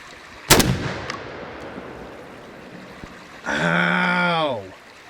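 A Retay Gordion shotgun firing a TSS load, one sharp, loud blast near the start with a short decaying echo, followed later by a person exclaiming in pain.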